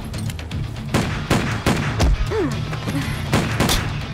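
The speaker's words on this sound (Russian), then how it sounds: "Башка, стреляю!" Gunfire in a crime drama scene, a string of sharp loud shots and thuds in quick succession over a tense, noisy background.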